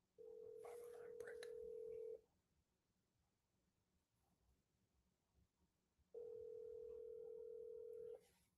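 An outgoing telephone call rings on the line with two long ringback tones, each about two seconds, separated by a pause of roughly four seconds of quiet line hiss.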